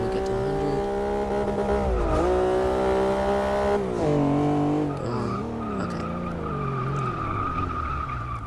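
Car in Forza Motorsport 6 under hard braking, a loud engine whine sweeping down in pitch with tires squealing and skidding, then settling into a lower engine note, no voices.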